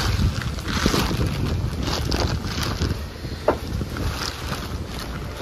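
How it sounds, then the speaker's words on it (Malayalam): Strong wind gusts outdoors during heavy rain, a loud, rushing buffeting roar with occasional sharper knocks, and no talking. "നല്ല കാറ്റുണ്ട്"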